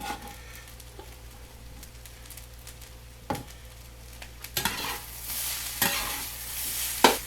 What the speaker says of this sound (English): we got our green onions to go in there. Put some in now